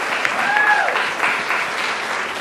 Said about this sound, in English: Can I get a huge round of applause for them?